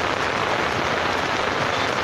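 Heavy rain pours onto a flooded street in Maceió, a dense, loud, unbroken hiss of drops hitting standing water with no voices.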